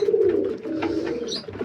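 Pigeons coo in low, throaty rolling calls at a morning feeding of wheat and chickpeas, close and continuous over a short stretch with no talking.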